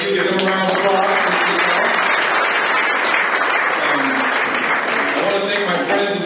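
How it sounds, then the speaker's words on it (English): Audience at a hotel event breaks into sustained applause, loud, dense clapping that fills the room from start to finish. "Give them a round of applause"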